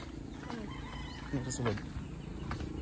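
A few chickens cluck and squawk nearby in short bursts, set against a steady background hum with faint voices around.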